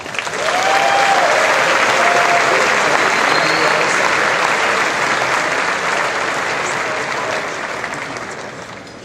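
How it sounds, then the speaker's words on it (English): Sustained audience applause fills a banquet hall at a commitment dinner as a Hall of Fame inductee, a retired lieutenant general, is welcomed; steady loud clapping holds throughout with a few voices mixed in, tapering slightly at the end. "y'all are clapping for the dean"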